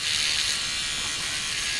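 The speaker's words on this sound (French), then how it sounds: "J'ai ici une brosse à dents électrique." Electric toothbrush buzzing steadily against tomato plant branches to shake pollen loose, a continuous bright mechanical whir close to the listener with no pauses.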